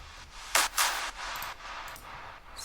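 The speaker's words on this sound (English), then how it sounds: "Also we have something like a clap." A clap sample from a techno remix made in FL Studio sounds as two sharp, bright claps close together, each trailing a reverb tail, followed by softer echoing hits.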